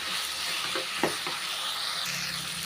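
Bottle gourd with tamarind and asafoetida sautéing in a pan, a steady soft sizzle and hiss throughout with a few faint stirring scrapes, close but quiet.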